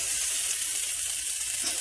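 Banana peel bacon hitting a hot pan, a dense, even hiss of frying that holds steady throughout, close and without talk.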